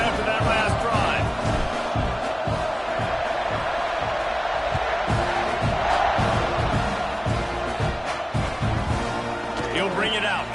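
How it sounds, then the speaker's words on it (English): A football stadium crowd roars after a touchdown at an Aggies game, a dense, sustained wall of cheering with bursts of whoops while an announcer talks over it. "this crowd is feeling themselves after that last drive"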